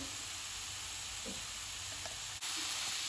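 Beef with flour added fries in a pan for Goan beef moll, giving a close, steady sizzling hiss with faint stirring clinks and a brief scrape midway.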